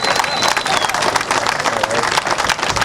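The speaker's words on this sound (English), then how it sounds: "round of applause" A round of applause follows a catch's weight announcement at the Humminbird BREAM Grand Final boater weigh-in. Crowd clapping is lively and close, with scattered cheers mixed in, lasting a few seconds.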